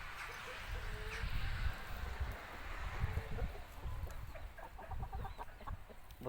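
A rooster, including a large Indian rooster, and several chickens cluck and call over a steady outdoor background, fairly close and moderately loud, with no clear talking.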